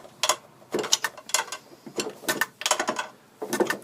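An ordinary 11mm spanner tightening a very tight bolt while Girling master cylinders are fitted to a Triumph TR4, giving repeated short metallic ratcheting clicks in bursts, close up and moderately loud, with no talk.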